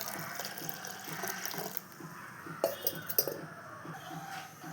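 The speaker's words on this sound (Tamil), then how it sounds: "இனி தேவையான அளவு தண்ணி." Water runs from a tap into a pressure cooker with sambar ingredients, a steady splashing fill with a few clinks of metal near the end, close and fairly loud, no voices.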